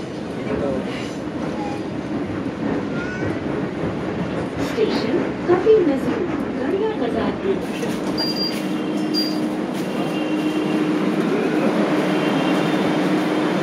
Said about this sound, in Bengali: তো আমি এখন মেট্রোতেই আছি, তো এখনও লাভবো, তাড়াতাড়ি নেমে যাবো।